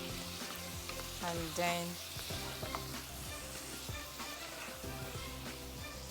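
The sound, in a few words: stir-frying carrots and vegetables in a pan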